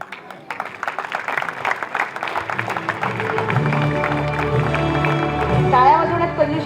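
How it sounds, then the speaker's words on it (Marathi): An audience at a primary school function applauds students, clapping that builds from scattered claps into fuller applause, with voices mixed in and a brief tonal sound near the end. "जोरदार टाळ्या झाल्या पाहिजे विद्यार्थ्यांसाठी"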